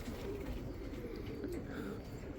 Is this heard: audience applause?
no